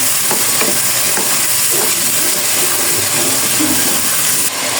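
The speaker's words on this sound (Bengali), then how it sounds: "বাদাম বাটা এগুলো দিয়ে ভালো করে আমি কষিয়ে নিচ্ছি" Ground nut paste and spices sauté in a pan with a loud, close, continuous sizzle and the repeated scrape of stirring, with no talking.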